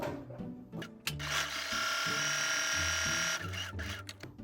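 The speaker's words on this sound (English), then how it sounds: "Line it up here, make sure my needle is lined up with that blue line, and just start sewing." A sewing machine stitches fabric for a dress placket, its motor whirring up into a steady, close buzzing run that holds for a couple of seconds before it slows and stops, with soft handling noises around it.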